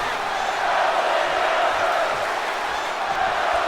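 A WWE 2K arena crowd roars and cheers in a steady, dense wash of noise as a SmackDown match between Dolph Ziggler and Heath Slater gets underway.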